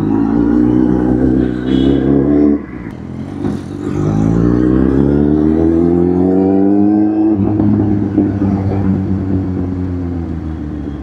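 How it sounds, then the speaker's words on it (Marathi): Dense road traffic on a crowded street, heard from a Kawasaki Z800 motorcycle ride: a steady engine drone with rising and falling revs, swelling close and loud, then settling into a continuous rumble with faint clatter. "अरे कसलं ट्रॅफिक राव."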